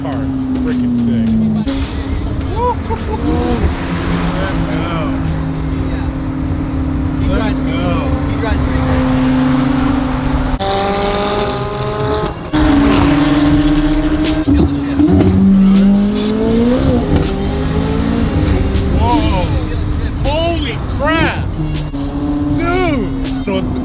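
A powerful McLaren supercar engine roars and accelerates repeatedly, its pitch climbing and dropping through gear shifts, loud and close, with people talking excitedly over it.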